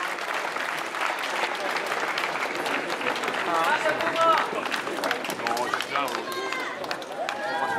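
A large crowd at the Tour de Romandie 2018 cycling final-stage podium ceremony claps and cheers continuously, with a French-speaking announcer talking over the applause.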